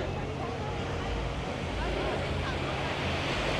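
Waves washing onto a resort beach in Punta Cana, a continuous broad roar of surf mixed with wind buffeting the microphone, loud and steady throughout, with a voice faintly talking underneath.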